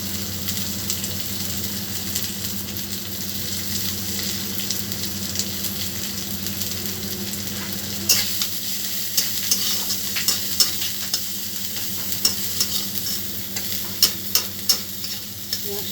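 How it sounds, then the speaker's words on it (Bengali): Chopped onion frying in hot oil over a high gas flame, a continuous even sizzle with a low hum beneath, later joined by sharp clinks and crackles of stirring. "এর আমি পেঁয়াজ কুচিটা দিয়ে দিচ্ছি"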